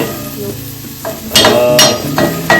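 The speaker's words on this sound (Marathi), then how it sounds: "जिताड्याचे तुकडे टाकून व्यवस्थित त्या मिक्स करणार आहोत" Pieces of jitada fish go into hot masala paste and are stirred, giving a loud close sizzle and fry with scraping stir strokes and clatter in bursts.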